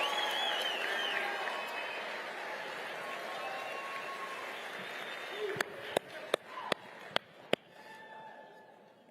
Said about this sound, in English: round of applause for Andrea Hanks, the White House photographer who took this photo